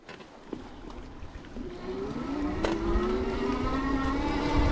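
An Electric Bike Company Model S electric cruiser with a 56-tooth chainring and 18-tooth rear freewheel accelerates, its motor whine climbing steadily in pitch as wind and road noise grow louder.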